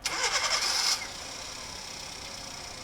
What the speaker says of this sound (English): This is the beep sound of a car when it is going to start.